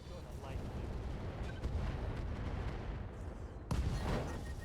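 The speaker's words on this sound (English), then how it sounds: "Fire up the incendiaries." Incendiary weapons fired from a battle mech in the MechWarrior game Solaris 7, a deep rumbling barrage with repeated heavy thumps and a loud burst near the end, under steady combat noise.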